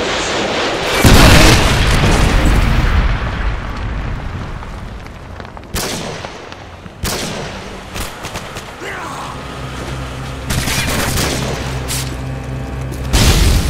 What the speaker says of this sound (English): Predator missile ready for deployment.